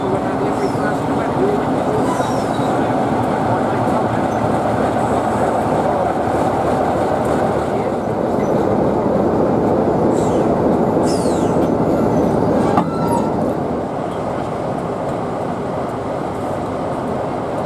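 A pair of Class 50 diesel locomotives passing with a train on a heritage line, a steady loud rumble of engines and wheels with rail clatter throughout, faint voices briefly over it.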